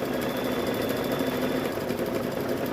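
A sewing machine runs in a steady continuous whir while quilting an apron, close and alone with no voices.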